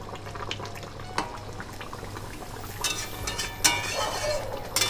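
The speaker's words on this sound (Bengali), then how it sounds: "মাছগুলো দিয়ে একটু এপিটোপিট করে দেবো যাতে মাছগুলো ঝোলের মধ্যে ডুবে যায় আর খুব ভালো করে সেদ্ধ হয়ে যায়" Pangas fish pieces simmering in curry gravy in a pan, with a soft bubbling burble and a few light clinks of a utensil, fairly quiet and without speech.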